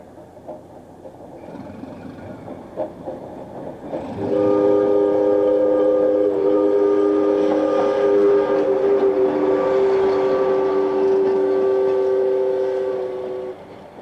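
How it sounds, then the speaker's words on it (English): Southern Pacific diesel locomotives rumble hauling a loaded sugar beet freight train, then a loud sustained multi-tone air horn blasts for several seconds over the engine drone. "bringing a loaded beet train to the unloading ramps at the sugar beet processing plant"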